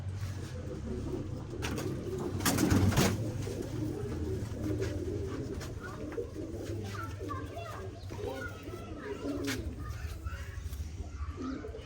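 Pigeons coo repeatedly in a soft, low, continuous murmur in a pigeon-keeping neighborhood, with a voice speaking nearby and children's voices in the background.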